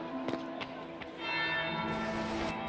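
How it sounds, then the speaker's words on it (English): A castle bell tolls in the Dragon Age video game, with a few resonant strikes ringing out and then a sustained bright shimmer rising as the tone swells and hangs in the air. "That's the bell."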